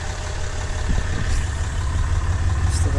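A Cummins 6.7 diesel truck engine idling close by, a loud, steady low rumble with constant clatter and broadband exhaust noise throughout.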